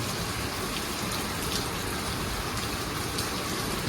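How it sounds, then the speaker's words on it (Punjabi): Heavy rain pours down steadily, a dense, continuous hiss of drops hitting wet ground and puddles with a bubbling, splashing texture throughout, loud and close with no one speaking. "ਦੇਖੋ ਕਿੰਨਾ ਬੁਲਬਲੇ ਵਾਲਾ ਮੀਂਹ ਪੈਣ ਡਿਆ ਜ਼ੋਰੋ ਜ਼ੋਰ"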